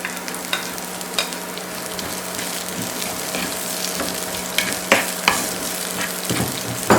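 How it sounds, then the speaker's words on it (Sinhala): Kochchi chillies fry in a hot pan for a coconut mallum, a steady close sizzle with regular scraping knocks from stirring. "මම අපාගත්ත කොච්චි ටික එකතු කරගන්නවා."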